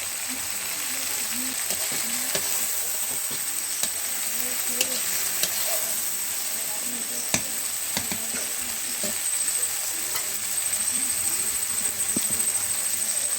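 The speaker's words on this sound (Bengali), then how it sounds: "যখন দেখবে তেল যেভাবে ছেড়ে আসছে তখনই ভাববে মশলাটা রেডি হয়ে গেছে" Spice paste sizzles steadily in hot oil for a pui kumro (Malabar spinach and pumpkin) dish, a dense crackling hiss with occasional sharp pops and stirring scrapes throughout, close and fairly loud, with no talking.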